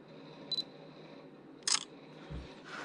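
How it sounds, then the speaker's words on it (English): A camera shutter clicks as pictures are taken of printed manuals, three short, distinct mechanical snaps spaced about a second apart over a faint, steady background hum, close and crisp with no voices. "Then I'm taking a picture of the manuals."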